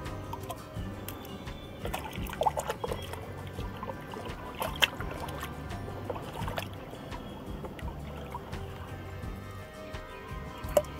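Dahlia bulbs rinsed under pouring water, a steady, close splashing trickle with occasional small knocks and drips.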